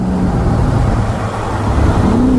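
Dodge Scatpack with a manual gearbox and intake and exhaust mods, engine running steadily while rolling at about 40 mph, a loud continuous low drone with a faint rising tone near the end.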